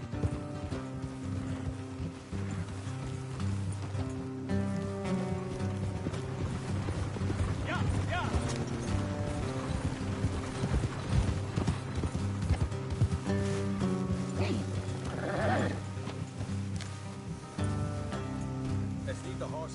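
Horses clip-clop along at a walk in a video game, steady hoof beats close by over wind, with occasional neighs and a voice speaking over them.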